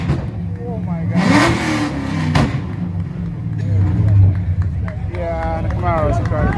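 A Camaro engine revs loudly and rises in pitch at a rev battle, with people talking over it and a crowd murmuring nearby.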